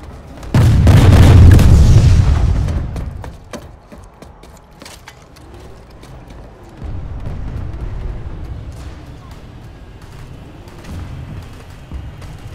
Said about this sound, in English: Generator destroyed.